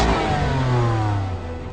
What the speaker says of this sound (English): The twin turbocharged straight-six engine produces 425 brake horsepower and